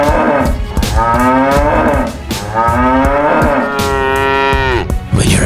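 Cows on a cattle farm in a video game moo loudly and repeatedly, long drawn-out bellows one after another with short breaks between them, close and clear with no talk over them.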